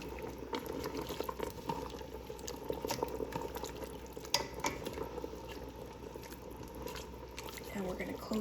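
A simmering pot of beef and potatoes being stirred: a soft, continuous bubbling with scattered utensil scrapes and knocks, fairly quiet and close.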